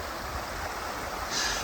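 A river in Arctic Norway flows with a continuous broad rushing hiss, steady and close, with no voices over it.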